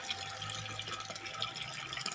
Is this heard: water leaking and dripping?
yes